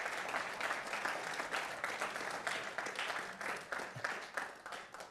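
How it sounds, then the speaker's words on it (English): A conference audience gives a round of applause to founding members standing up, a continuous patter of many hands clapping at moderate distance, fairly soft overall and tapering slightly toward the end. "give them a round of applause."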